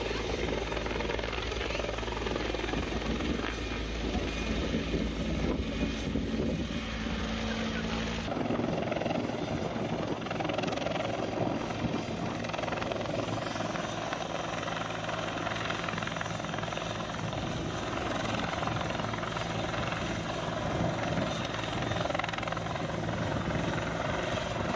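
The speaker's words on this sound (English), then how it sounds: "we were warned that a rescue helicopter was coming" A rescue helicopter flies overhead, its rotor thudding and turbine whining loud and continuous, shifting in tone as it passes, with faint voices in the background.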